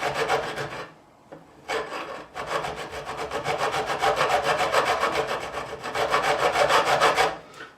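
A metal file rasping across the fret ends of a 1978 Fender Stratocaster neck, steady back-and-forth scraping strokes up close, briefly pausing near the start then continuing evenly to the end.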